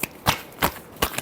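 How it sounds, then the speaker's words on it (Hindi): Tarot cards shuffled by hand, three crisp riffling bursts spaced roughly a third of a second apart, close and fairly quiet, with no talking. "Last shuffle."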